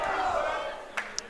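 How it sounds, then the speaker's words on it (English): Basketball fans at a college game roaring on their feet, a sustained crowd noise that fades slightly, with a couple of brief sharp squeaks near the end. "These fans are going nuts, Mark. Crowd on their feet here"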